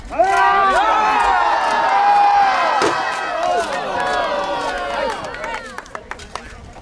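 Spectators at a Renaissance faire knight combat show shout and cheer loudly for their champions, overlapping voices rising and falling in a raucous crowd, tapering into scattered sharp knocks near the end.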